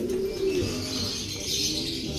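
A caged pet bird, likely a dove, gives soft low coos close by over a steady background hum.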